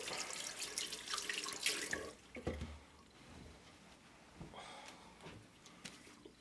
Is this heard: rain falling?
no